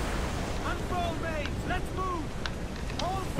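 In the Assassin's Creed 4 video game, wind and ocean waves buffet a sailing ship in a constant roaring wash, with faint tonal voice-like calls rising over the noise now and then.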